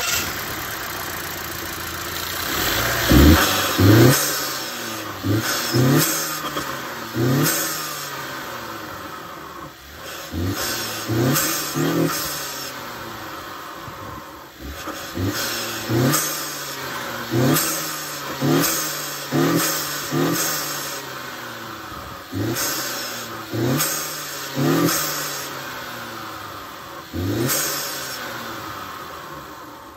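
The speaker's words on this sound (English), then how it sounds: "if I should start the car real quick, I can actually let you guys hear what that sounds like" A 2020 Honda Accord Sport with the 2.0-liter turbo engine starts up and is revved repeatedly, a series of sharp rising blips over a steady idle, recorded close by with almost no talking.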